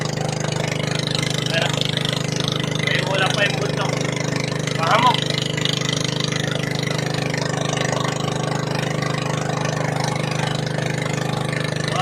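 A motorboat engine drones steadily, with a low constant hum and faint, distant voices underneath.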